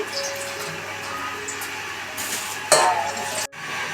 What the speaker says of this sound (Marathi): हा करंज्यांचा रवा आहे ना हा भाजून घेते चांगला मस्तपैकी खरपूस असा भाजून घ्यायचा